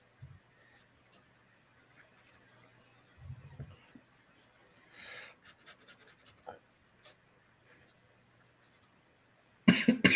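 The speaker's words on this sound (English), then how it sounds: "This horrible cough." A person coughs near the microphone in a sudden harsh burst at the end, after a quiet stretch of soft rustling, scratching and faint breathing.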